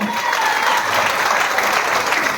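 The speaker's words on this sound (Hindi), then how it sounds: "एक जोरदार ताली होना चाहिए।" Loud, steady applause from a large crowd at a meeting fills the whole stretch as one dense, even wash of clapping with no pauses.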